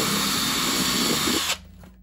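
A power drill whirs loudly and steadily for about one and a half seconds while making air holes in a reptile shipping container, then cuts off abruptly, leaving near silence.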